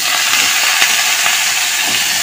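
Mango pickle for a jelly-like sweet preserve, cooked with salt and turmeric while slowly stirred, gives a loud continuous close-up hiss of sizzling with no pauses.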